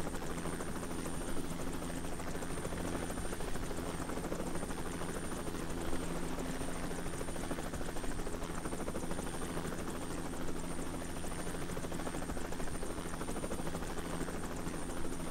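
A steady, droning helicopter in the video game ARMA 3, with a continuous rotor hum and engine whine, unchanging and fairly loud throughout.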